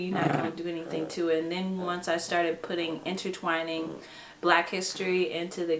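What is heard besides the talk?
dog making noise in the background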